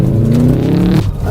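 A Subaru car engine revs loudly in a Need for Speed racing game, a close, steady mid-pitched drone that rises in pitch and then drops sharply as the gear changes.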